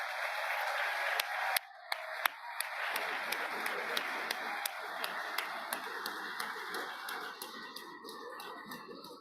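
Steady audience applause fills a presidential library auditorium as two speakers are welcomed, dense clapping held at a constant level for several seconds with a few sharper claps standing out.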